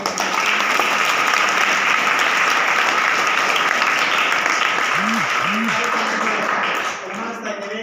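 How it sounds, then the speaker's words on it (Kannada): Loud, sustained applause from a large audience welcoming a revered swami at a Kannada school function, steady and dense for most of the stretch before easing slightly near the end, with a voice speaking faintly beneath it. "ಭಕ್ತಿಪೂರ್ವಕವಾಗಿರುವಂತಹ ಜೋರದ ಚಪ್ಪಾಳೆಯೊಂದಿಗೆ"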